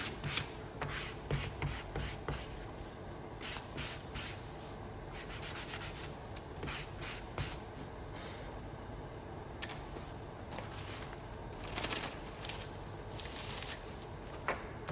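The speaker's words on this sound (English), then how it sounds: "it's much easier to sand now than it is when your pieces are on the sign" Small wooden pieces for a shaker sign being sanded by hand, a quiet rhythmic rasping of repeated short strokes, near and uninterrupted by talk.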